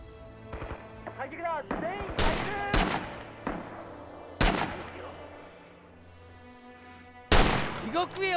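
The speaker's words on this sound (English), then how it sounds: "Be careful, someone's shooting at us." Rifle and gun shots ring out in a WWII Pacific battle in Rising Storm, with sharp, loud cracks and echoing tails in irregular bursts, some close and some distant, as people talk between shots.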